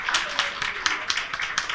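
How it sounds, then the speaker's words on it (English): A conference audience at an energy initiative launch in the Philippines claps for a discussion panel. Light, scattered clapping from a modest crowd continues steadily throughout. "let's give Ariel, Anne, X, Marla, and Sumi another round of applause"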